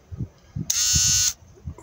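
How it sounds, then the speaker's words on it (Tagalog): A rechargeable men's electric shaver switches on and buzzes in a loud, steady, high-pitched drone for about half a second before cutting off, with brief soft handling noises before and after. "So itong isa, pang shave, pang ahit din."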